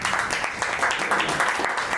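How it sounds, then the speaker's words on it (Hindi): Audience applause for a standup comedy show's host at a live event in Hyderabad, a dense, steady wash of clapping sustained throughout at moderate loudness with no talk over it. "उनके लिए एक ज़ोरदार तालियां हो जाए"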